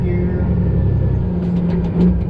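A truck engine idles and rumbles steadily on a 10-speed transmission, with a low, continuous drone and a slight shift in pitch near the end as the gear changes.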